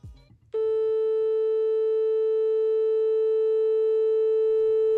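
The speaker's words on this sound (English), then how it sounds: "your device will actually play that pitch out loud" A tuner app plays a steady electronic reference pitch for violin tuning, a clear sustained tone that begins abruptly after a brief rustle and holds unchanged at even loudness.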